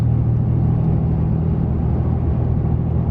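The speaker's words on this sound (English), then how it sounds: "Truck is shifting through the gears good" A 2013 Ram 2500 Cummins diesel pickup truck on a test drive, its engine giving a steady, loud, low rumble from inside the cab with continuous road noise throughout.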